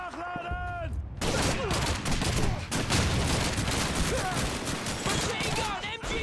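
An MG-42 machine gun firing in the video game Call of Duty during a river crossing battle against Germans, a loud sustained burst of rapid gunfire with shouting voices over it.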